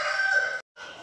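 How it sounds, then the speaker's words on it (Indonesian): Village chickens (ayam kampung) at an agro-tourism farm: a loud, close rooster crow with a harsh, sustained cry, then a short gap and a second crowing burst, with no talk. "Sini ada ayam kampung"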